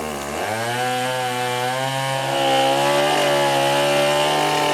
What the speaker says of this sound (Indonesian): Dengan menggunakan gergaji mesin, batang pohon tumbang tersebut langsung dievakuasi petugas.